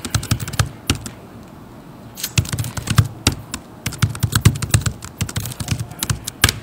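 Rapid keystrokes on a computer keyboard, tapped in irregular bursts with a short pause near the two-second mark, close and fairly loud with no voices.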